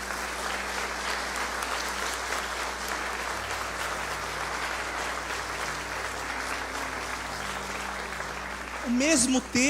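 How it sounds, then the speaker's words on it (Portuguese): Church congregation applauding steadily for several seconds, a dense continuous clatter of many hands, with a voice breaking in near the end. "Vamos aplaudir ao Senhor por isso?"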